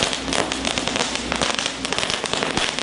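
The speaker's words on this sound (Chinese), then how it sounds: "投注站老板开心放鞭炮，" A string of firecrackers goes off outside a lottery shop, a loud, dense, continuous crackle of rapid pops close by that fills the whole moment.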